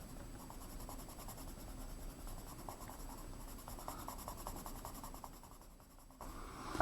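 A colored pencil shades across paper while a tree drawing is filled in with color and value. Fast, even scratchy strokes repeat at a steady rhythm, close and fairly quiet, and stop briefly near the end.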